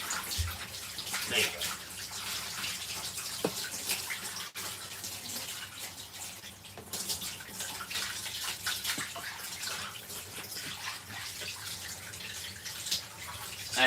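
Hose water sprays steadily and close during a dog's first shower, a continuous splashing wash that runs throughout with a person talking briefly over it.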